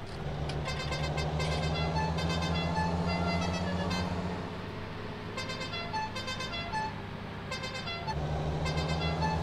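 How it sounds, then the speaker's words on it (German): Vehicle horn in Farming Simulator 19 honking in two long loud blasts separated by a short pause, over a steady engine drone, with no talking. "Schon lustig, die Hupe, ne?"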